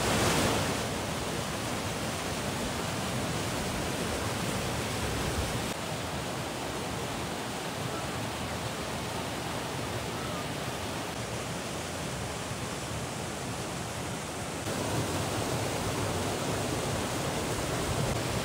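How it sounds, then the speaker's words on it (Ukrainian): Steady, dense roar of rushing water from the Korolivskyi waterfall in the Bukovina Carpathians fills the whole clip, a constant broadband wash heard up close, with no voices. "Починається і перший водоспад Королівський."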